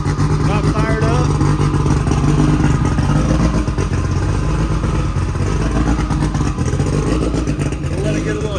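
An 800HP Honda Civic engine running on Pro E fuel idles and warms up loudly and continuously, a dense steady mechanical roar with some clatter, while people talk over it.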